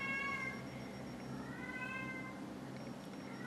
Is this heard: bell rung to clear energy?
no